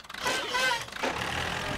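A cartoon little red tractor's engine chugs and whirs as it moves forward, a steady mechanical motor sound heard up close and moderately loud, with faint background noise and no clear speech.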